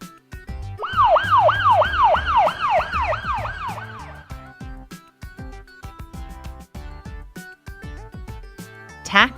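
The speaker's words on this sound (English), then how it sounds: "Ambulance." An ambulance siren sounds in fast, regular up-and-down wails for about three seconds, loud and close, then fades out, leaving soft background music.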